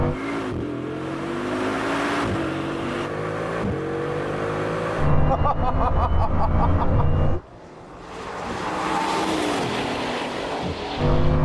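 A Bugatti Chiron Super Sport and a Chiron Pur Sport roar through a rolling race from 10 mph, loud engines climbing in pitch through gear changes with a sharp drop and renewed surge.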